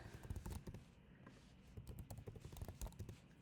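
Rapid bursts of computer keyboard typing, clicky and close, with a brief pause in the middle before the keystrokes resume.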